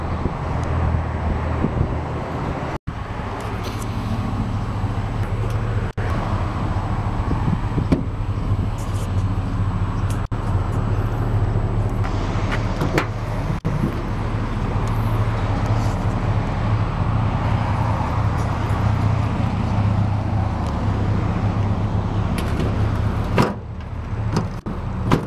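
A 2004 Chevrolet Silverado pickup on 16-inch Hummer rims idles steadily with a low, even rumble, joined by wind buffeting the microphone and a couple of brief knocks.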